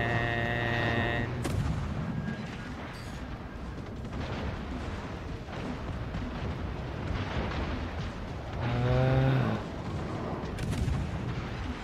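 Naval guns boom in the World of Warships video game through loud, heavy, repeated blasts over a constant rumble of battle noise, with a tonal game sound at the start and again near the end.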